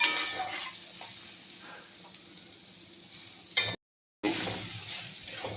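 Soya chunks with salt and turmeric are stirred in a frying pan, giving a crackling sizzle and scraping of a utensil, with a brief silent gap and a louder burst of frying afterward.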